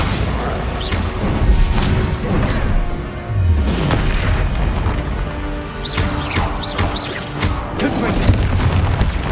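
Spell blasts in the Hogwarts Legacy video game, an explosive Bombarda curse among other combat casts, land as repeated booming bursts with whooshes and crashes in a dense, loud battle mix, while voices call out over the fighting.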